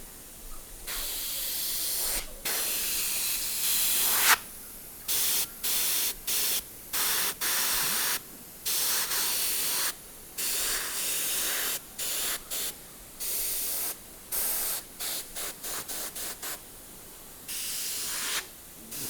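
Airbrush spraying paint onto a totem pole, a soft close hiss delivered in many short bursts of varying length separated by brief pauses, with no talking.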